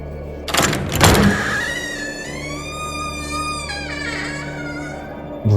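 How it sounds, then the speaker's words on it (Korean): Creaking door swinging slowly open, a long drawn-out groaning squeal with wavering pitch over a steady low hum, preceded by a couple of knocks and bumps, fairly close and alone. "문이 삐걱거리는 소리를 내며 천천히 열렸다."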